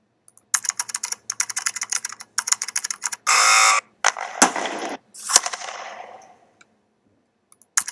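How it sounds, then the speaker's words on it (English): Computer keyboard typing sound effect, bursts of rapid clicking keystrokes in short runs, followed by a harsh buzzing tone and a longer fading noisy clatter. "It sounds like a computer keypad."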